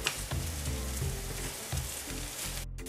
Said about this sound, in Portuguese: deixei refogando aqui por alguns minutos